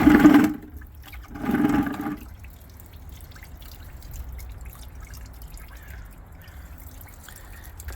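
Water flushes through a cooling system part on a 1996 Jeep Cherokee during a coolant change: two short gushing bursts near the start, then faint trickling and dripping.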